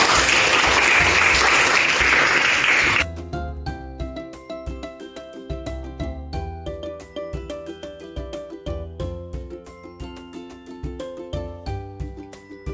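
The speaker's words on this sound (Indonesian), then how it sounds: "Mari kita tepuk tangan bagi kita" A classroom group of teachers breaks into brisk applause for about three seconds, then rhythmic music takes over and carries on alone.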